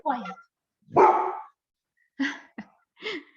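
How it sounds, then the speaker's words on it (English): A dog barks indoors in short, separate bursts, about four or five sharp yaps spread over a few seconds with quiet gaps between them, fairly close and loud. "My dog will start barking."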